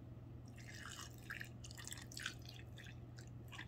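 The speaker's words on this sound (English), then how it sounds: "I'm pouring enough to at least submerge my nails" Nail dipping solution from a dip powder kit trickles and drips into a small container, a faint, steady liquid patter over a low constant hum, with no talking.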